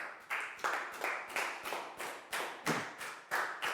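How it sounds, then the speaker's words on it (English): Children in a primary classroom clap together in a steady, rhythmic pattern of about eleven sharp, moderately loud claps, evenly spaced, with no talk over them. "High five and a big round of applause for Stu, please, guys."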